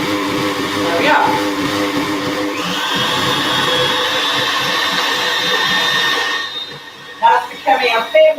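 An electric mixer whirs steadily as it whisks orange-tinted batter for a Halloween pumpkin piñata cake, loud and close for several seconds before cutting off, followed by a few brief clatters.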